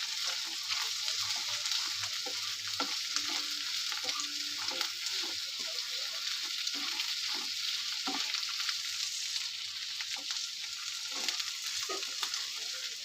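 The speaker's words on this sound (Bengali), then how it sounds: "ভাজাটা হয়ে গেছে" Food frying in a pan for a breakfast dish, a steady close sizzle with occasional stirring clicks and scrapes throughout, no voices.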